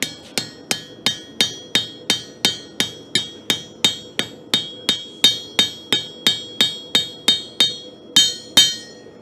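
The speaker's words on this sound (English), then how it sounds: "I'm going to pinch some of this material out with my cross peen like this." Hot metal is forged with a cross peen hammer in a blacksmith demonstration, with about twenty sharp, ringing close blows in a steady rhythm, each decaying quickly, and no talking.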